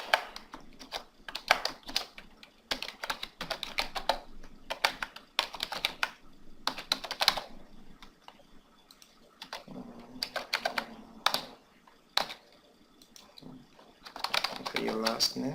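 Fingers typing an email address on a computer keyboard, close-up and moderately loud, in uneven bursts of rapid key clicks separated by short pauses.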